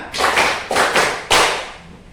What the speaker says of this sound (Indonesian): Tepuk lima.